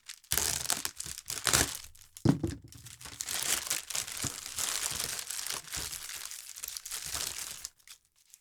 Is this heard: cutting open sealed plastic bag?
yes